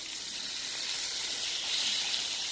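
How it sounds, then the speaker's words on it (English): Steady, bright sizzling from beef liver frying in a hot pan, a constant hiss at moderate loudness with no talking. "I'm frying them good enough so I can put them in the oven."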